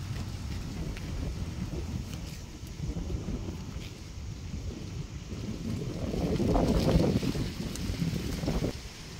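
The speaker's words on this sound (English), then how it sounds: "when I came here to the farm, it was windy, very windy" Strong wind blows across a farm cornfield, a rough rushing roar buffeting the microphone, swelling louder toward the end with no talk.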